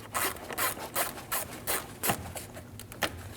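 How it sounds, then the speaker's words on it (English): A T15 bit backing a screw out of the air intake trim on a 2012–2022 Volkswagen Passat bumper, giving a series of short, close ratcheting scrapes and rubs in an uneven rhythm, with no talk. "Using a T15 bit, remove the screw on the side of the air intake."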